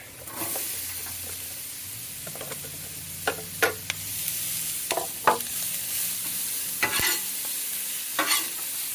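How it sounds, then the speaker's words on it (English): Vegetables sauté in butter on a flat griddle, a steady close sizzle and hiss with occasional sharp spatula clicks and scrapes, no voices over it. "We're just going to let those saute for a little bit."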